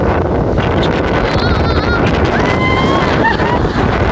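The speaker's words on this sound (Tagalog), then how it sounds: "Lakas ng hangin!" Strong coastal wind at a rock formation in Ilocos buffets the microphone in a constant loud roar, with surf rushing in the background and faint voices calling out.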